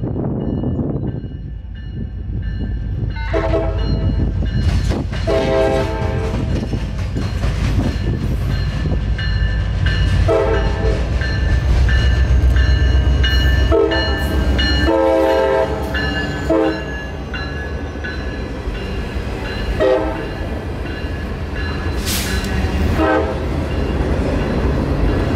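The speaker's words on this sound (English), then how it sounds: "this train right here, K42127, running this time from Garrett, Indiana to Tampa, Florida" Freight train K42127, running from Garrett, Indiana to Tampa, Florida, passes close by with steady loud rumbling of rolling cars and repeated horn blasts sounding throughout.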